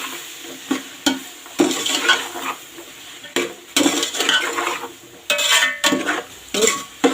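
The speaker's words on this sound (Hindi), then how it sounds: "सबको हम इसमें ऐड करके इसको हम 2-4 मिनट तक हम इसको अच्छे से कुक कर लेंगे" Julienned carrots and potatoes are stirred and cooked in a pot for vegetable pulao, with repeated spoon scrapes and clanks in irregular bursts over a low sizzle, close and fairly loud, no talking.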